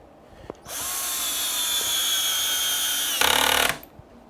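A power drill drives screws into a wooden faceplate for a large platter. The motor whines steadily for about three seconds near the mic, then its pitch shifts briefly before it stops.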